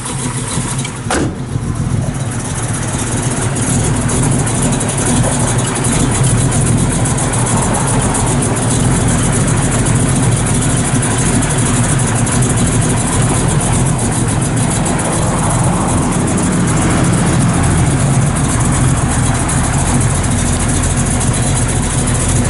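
A 1968 Chevrolet Camaro SS 350 V8 idles loud and steady through headers and a stainless dual exhaust with Magnaflow mufflers, a continuous close rumble that runs the whole time without pause.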